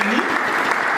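Loud, dense applause from a standing audience at a gathering in Minembwe, South Kivu, a brief continuous wash of clapping with a voice faintly audible beneath it.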